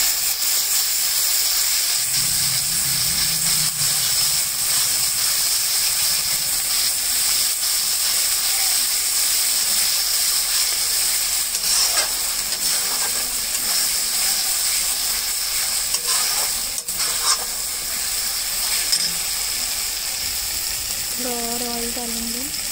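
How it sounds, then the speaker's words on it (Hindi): Spices frying in oil in a pan for a small-fish gravy, a steady dense sizzle and hiss that runs the whole time, loud and close, with a few faint scrapes and no talking. "हम मसाले को थोड़ी देर भून देंगे।"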